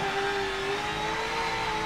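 A V8 Supercar engine in Forza 7 holds steady at high revs against the limiter in fifth gear, a constant strained drone with a thin whine on top, heard at moderate distance.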